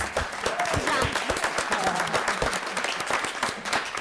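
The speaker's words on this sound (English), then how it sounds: "Let's give them a round of applause." Applause at a school board meeting for student presenters: a modest group of hands clapping, individual claps audible as a quick irregular patter, moderately soft and sustained for several seconds.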